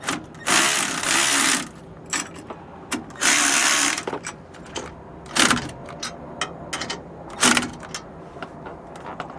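A ratchet wrench snugs down the bolts of a Roadmaster Exact Center steering stabilizer, with several bursts of rapid clicking and short single clicks close by and quiet gaps between, and no talk.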